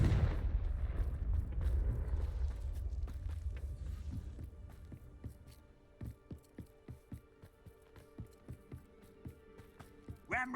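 Confringo fire spell blasting in Hogwarts Legacy: a heavy, rumbling explosion that fades out over several seconds, then a run of quick, rhythmic thumping impacts.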